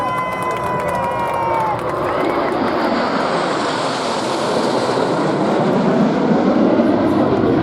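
Royal Air Force Red Arrows aerobatic jets roar over a New York airshow in big battle formation, a loud sustained engine rumble sweeping past with crowd noise beneath.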